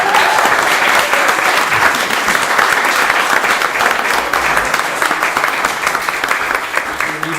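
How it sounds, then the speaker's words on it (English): A loud, dense burst of applause from an election hustings audience in Merthyr and Aberdare, sustained and close for several seconds with faint voices mixed in. "can we have a massive round of applause, please, for Andrew"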